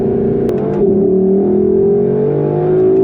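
A 2021 Lexus LC 500 Convertible accelerates hard as traction control engages, its engine note climbing steadily and loud from close by for about three seconds, with no talking.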